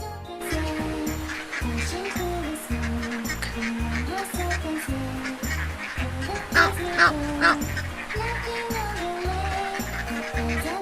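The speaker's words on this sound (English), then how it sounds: "duck," A cartoon duck quacks repeatedly over a rhythmic children's music track, with a quick cluster of louder quacks partway through.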